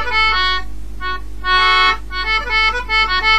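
An English concertina plays the Irish reel Silver Spear, its reedy tones running in a quick melodic line ornamented with a double grace note, close and clear with no voice over it.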